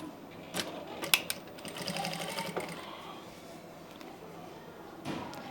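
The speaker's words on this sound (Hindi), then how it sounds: "यहां से हमें सिलाई लगानी स्टार्ट करनी है" Sewing machine stitching fabric for a Haryanvi daman, a fast whirring run with clicks and handling noises, fairly quiet and close.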